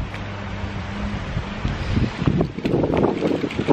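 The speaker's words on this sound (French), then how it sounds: "Il y a trop de vent." Strong outdoor wind buffets the microphone in steady, heavy gusts with rumbling low end, continuous and loud throughout, with no talking.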